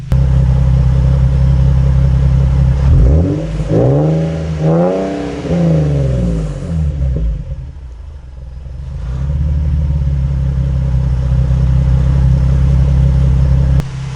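Infiniti G37 engine after turbo repair, loud and close, idling steadily and then revving several times in quick rising-and-falling sweeps before settling back to a strong idle, no talking.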